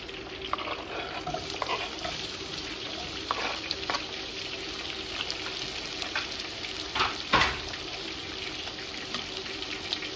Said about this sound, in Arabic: خليت قطع الزبدة، راح أخلي عليها ترى راسين بصل